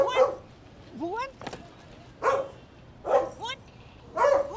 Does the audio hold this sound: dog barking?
yes